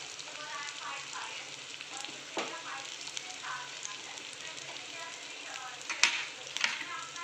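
Black masala spice mix frying and being stirred in a pan for masala fried vermicelli: a steady, close hiss of sizzling oil with occasional scraping clinks, moderately quiet throughout.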